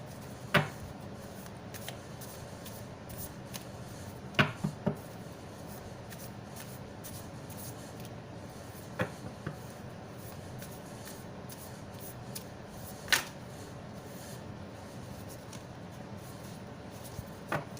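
Tarot cards shuffled by hand in a quiet room, a soft continuous riffling broken by a few sharp snaps of cards knocking together.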